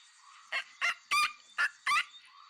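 A pelican calls five times in a row, short harsh honking bursts evenly spaced about a third of a second apart, close and clear with no talk.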